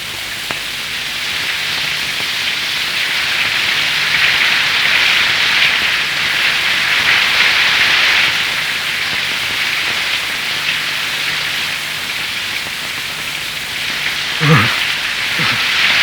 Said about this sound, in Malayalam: എന്തൊരു മഴ!